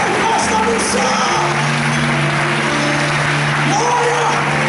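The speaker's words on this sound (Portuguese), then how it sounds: "Aplauda Jesus mais forte, porque tem festa no céu." A church congregation claps steadily for a few seconds, a dense wash of hands mixed with music and scattered voices.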